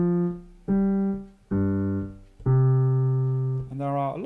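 A piano plays the closing two bars of a Gavotte by Handel at a slow tempo: a few sustained notes, each struck clearly and left to ring and fade before the next.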